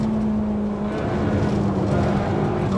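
A Ferrari 458 Italia in the Assetto Corsa racing game on PS4 holds a loud, steady, high-revving engine note with a strong constant tone, close up and continuous with no talk.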